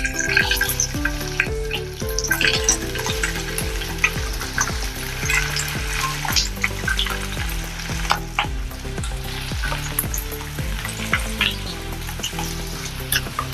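Boiled potatoes sizzle and crackle as they fry in hot oil with cumin seeds, with occasional stirring clatter and soft music playing in the background.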